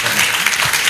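Audience applause at a political gathering, a brief burst of many hands clapping, dense and fairly loud, with no clear talk.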